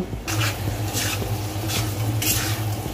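Shredded cooked goat meat hits hot oil with spices, giving a continuous sizzle and a low frying rumble, while rhythmic bursts of spatula scraping and stirring against the pan come roughly every second, close and fairly loud.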